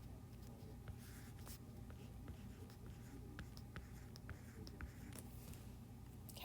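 Pen or pencil scratching on paper while a number is written out by hand, a steady run of close, quiet strokes and taps with faint room noise behind.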